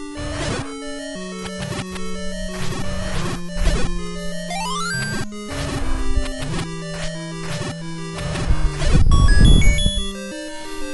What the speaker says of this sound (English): You can actually hear that the boss is in the next room.